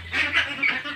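Hybrid ducks crowded in a cramped pen give loud, close, nasal honking quacks, two or three overlapping calls in quick succession.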